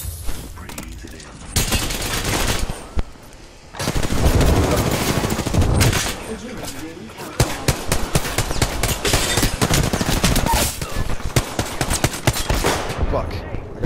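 In a video game shooter, dense volleys of automatic gunfire crackle close and loud in repeated bursts, with short gaps and sharp impacts mixed in, sounding like a heavy firefight.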